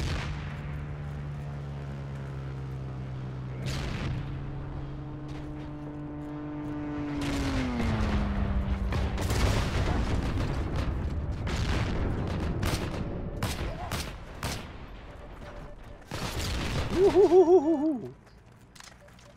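Several sharp, loud gunshot cracks from the video game Heroes and Generals, spaced irregularly, over a droning tonal background hum.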